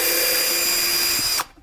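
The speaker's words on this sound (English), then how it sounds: "I'll go ahead and pre-drill a hole on the top of" A power drill whines at a steady high pitch while pre-drilling a hole in the wooden back piece of a birdhouse, loud and close, then spins down and stops.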